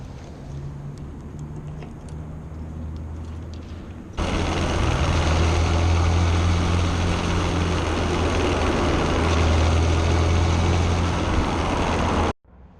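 A motorcycle idles steadily beside Big Almaty Lake during an overnight moto camping trip. After a quieter stretch its low, even rumble jumps sharply louder and holds close and constant before cutting off abruptly.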